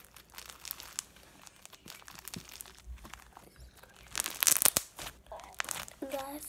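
Crunchy slime packed with bubble beads being squished and pressed, irregular crackly crinkling pops, fairly close, with a burst of louder crunching midway and faint speech-like sounds in places.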